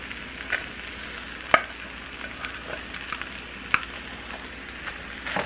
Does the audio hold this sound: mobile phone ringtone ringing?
no